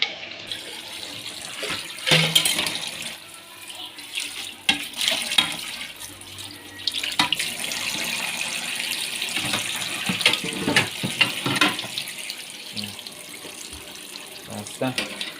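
Tap water runs into a kitchen sink during dishwashing, a steady splashing wash with clatters and louder bursts, under occasional casual talk from people nearby.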